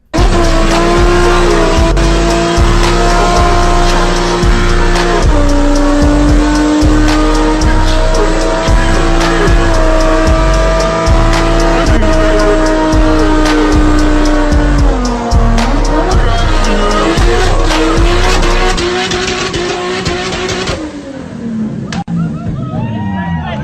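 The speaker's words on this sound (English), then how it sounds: "this car is only used for gender reveal burnouts in a backyard" A car does burnouts in a backyard, its engine revving hard and steady for a long stretch while the tires squeal continuously, loud and close, before the noise drops away near the end.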